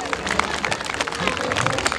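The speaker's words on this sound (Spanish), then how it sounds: "Yo les he pedido los aplausos, pues." Lively applause from an audience at a comedy show in Cusco, many hands clapping in a brisk, uneven patter with crowd murmur beneath.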